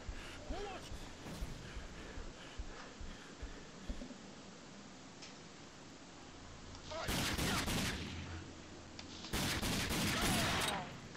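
Gunfire in a video game, with scattered shots early on, then two loud, dense bursts of rapid fire toward the end, close and loud, with someone talking quietly in between.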